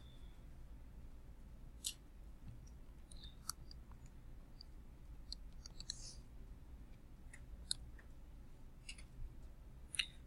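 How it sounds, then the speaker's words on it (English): Button presses on a calculator as numbers are keyed in for a square-root problem, a series of small, quiet, irregular clicks and ticks spread over a soft background hiss, with no talking. "so we can just type that in the calculator."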